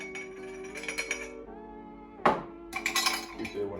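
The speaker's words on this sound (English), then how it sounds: "I'm using 4 ice cubes." Four ice cubes drop into a glass while an iced latte is being made, giving a scatter of bright clinks and one sharper clatter near the middle, close and fairly loud.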